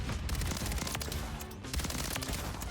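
Dense gunfire and grenade explosions rattle continuously in a Modern Warfare 3 match, loud and close, with rapid overlapping shots and booms.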